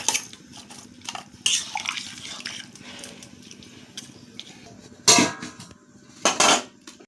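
Fish dropped into a cooking pot of greens and water in a home kitchen, giving loud metallic clatters and splashy bursts in a few separate clusters, with quieter scraping in between.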